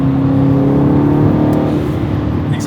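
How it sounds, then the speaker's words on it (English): A Mercedes-Benz exhaust drones loud and steady from inside the cabin, a constant low engine hum that holds at one level with only slight rises, no talking heard. "The exhaust sounds good though in here."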